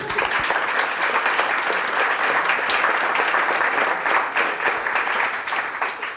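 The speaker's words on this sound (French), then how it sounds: "Merci beaucoup Héloïse, on peut l'applaudir." An audience at a conference on sustainable tourism and aviation breaks into continuous applause, loud and close, a thick wash of clapping that stays steady and fades slightly toward the end.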